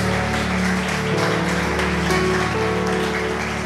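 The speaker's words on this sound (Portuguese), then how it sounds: "Você pode aplaudir o Senhor bem forte?" A church congregation claps strongly during a worship service, a dense, rain-like patter of many hands that holds steady throughout. Sustained organ-like musical tones hum softly beneath it.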